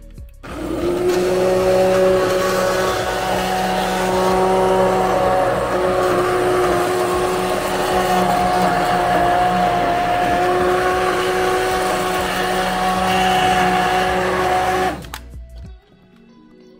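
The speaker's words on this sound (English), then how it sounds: "And then I use an immersion blender." An immersion blender whirs steadily through an ice cream base with heavy cream, a loud continuous motor drone with shifting pitch lasting about fifteen seconds before cutting off abruptly.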